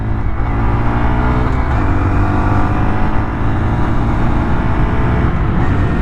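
Honda Monkey 2025 small motorcycle riding in traffic at around 50 mph, its engine droning steadily and loudly with constant wind and road rumble throughout, no talking.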